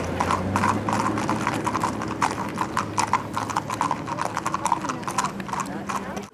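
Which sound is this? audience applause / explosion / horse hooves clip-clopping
horse hooves clip-clopping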